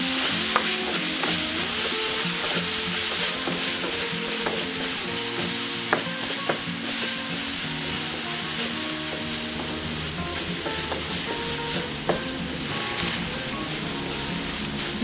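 Chicken and mushroom paella sizzles steadily in a pan while a spoon stirs it with frequent scraping clicks, loud and close throughout.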